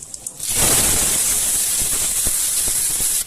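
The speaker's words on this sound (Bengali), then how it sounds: "তেল গরম হয়ে গেছে, এবার আমি 1 চামচ গোটা জিরে ফোড়ন দিয়ে দিলাম, আর 2টো তেজপাতা দিয়ে দিলাম" Whole cumin seeds and two bay leaves hit hot mustard oil for a vegetable khichuri, setting off a loud, steady sizzle and hiss. Small crackles and pops run through it, and no one speaks.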